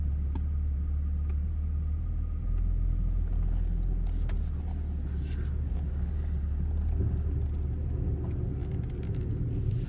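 A BMW 135i F20 with a rough idle pulls forward under a steady, close engine rumble that stays even throughout, with no talking.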